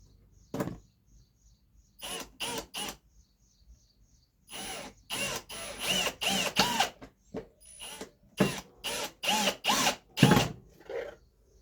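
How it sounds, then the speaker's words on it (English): Bursts of a power drill driving pocket hole screws into wood for a rustic barn build, a few short runs early then a steady series of loud, close whirring pulses separated by brief pauses. "I'm going to put these pocket hole screws in"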